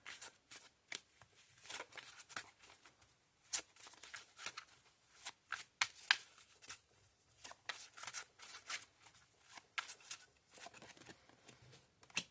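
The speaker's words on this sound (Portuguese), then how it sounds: "Eu vou tirar mais duas cartas de complementação" Tarot cards shuffled and drawn by hand, a quiet close-up series of crisp riffling flicks and soft slaps in irregular bursts, with no talk.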